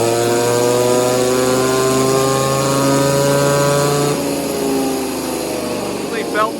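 Echo 2511 clone chainsaw engine, tuned with an exhaust mod and added timing, screaming through a sustained high rev on a dyno, pitch climbing steadily before cutting off and winding down, loud and close.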